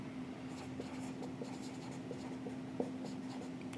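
A pen writes on paper while someone works through a class 12 accounting problem, a soft, continuous scratching with small irregular strokes and taps, close and steady under a low constant hum.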